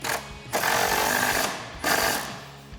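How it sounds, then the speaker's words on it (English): An impact tool tightens the bottom bolt of a Jeep Wrangler JL Teraflex spare tire mount with a 16mm socket, two loud close bursts of rapid hammering separated by a short pause. "now we can tighten this up using a 16mm socket for this bottom bolt"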